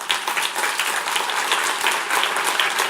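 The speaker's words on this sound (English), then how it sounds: "Big round of applause for Attila." An audience claps enthusiastically after a talk at a Cannes Lions event, dense sustained applause filling the whole stretch at steady loudness.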